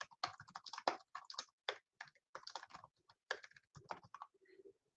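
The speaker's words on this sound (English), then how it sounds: "if you're just typing here" Fingers type on a computer keyboard in quick irregular bursts of close, crisp key clicks, separated by short pauses and ending with a few lighter taps, with no talking.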